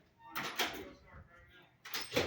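Door being pulled and grabbed at a Nye County agency office: two clusters of sharp knocks and rattles of the door under tense voices, fairly close but not loud.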